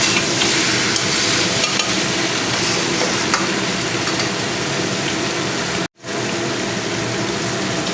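Vegetables stir-fried in a pan for a Bengali vegetarian dish give a loud, continuous sizzling hiss with faint stirring scrapes, broken by one brief pause before resuming.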